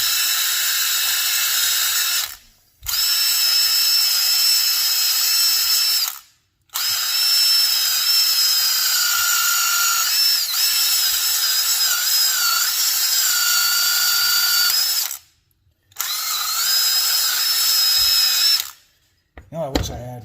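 A handheld power drill runs loud and steady in several long bursts, stopping briefly between them, as work goes on restoring an abandoned Ford 8N tractor.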